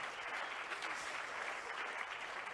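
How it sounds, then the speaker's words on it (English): An audience gives a round of applause at the Alpine 2024 Formula One car launch, an even, moderately distant patter of many hands that continues steadily throughout. "I think a round of applause"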